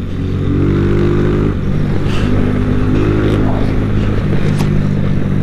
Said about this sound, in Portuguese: Mano, agora não dá pra nem pra contar as motos. Tem umas 15 motos aqui